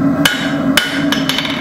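Hammer blows on good steel being forged at a dark heat, a few sharp metallic strikes, close and clear, spaced irregularly over a low background hum.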